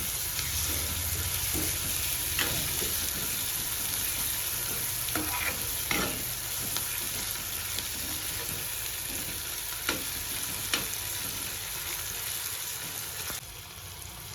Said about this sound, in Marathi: त्यानंतर कट केलेले टमाटे टाकून घ्यायचं आणि त्याला चांगलं परतून घ्यायचं